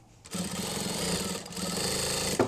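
A sewing machine stitches a tote bag in a fast, steady mechanical whir, with a brief pause midway before it continues, close and fairly quiet.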